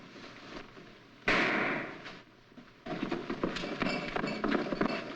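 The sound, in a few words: gunshot in a 1946 movie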